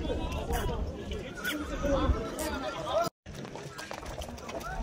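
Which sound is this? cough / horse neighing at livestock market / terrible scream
horse neighing at livestock market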